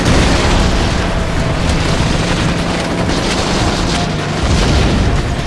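Battlefield 2: Modern Combat on the PlayStation 2 delivers dense, loud gunfire and explosions, a constant roaring barrage of booms and blasts with no gaps.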